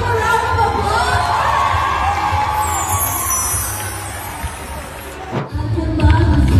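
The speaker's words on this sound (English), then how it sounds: "Let's give a round of applause." Excited crowd cheering with whoops and shouts over applause at a fan event for a Korean actress, a loud, lively din that dips briefly before surging back up.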